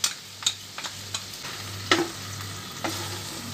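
Mixed vegetables being stirred in a wok with added cashew and poppy seed paste, giving a few scattered scraping clicks over a low, steady sizzle with no talking.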